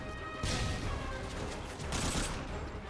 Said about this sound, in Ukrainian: Ось я полюбляю ось цим кулеметом всіх відстрілювати.